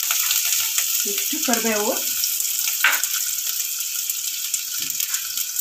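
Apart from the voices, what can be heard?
onions frying in oil for Andhra palak pappu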